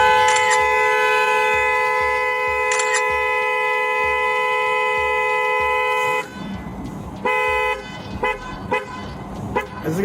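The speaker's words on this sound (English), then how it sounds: "I was following behind you honking the horn because you were doing something wrong" A car horn blares in long sustained honks, then after a pause gives several shorter bursts, close and loud over a vehicle's engine rumble.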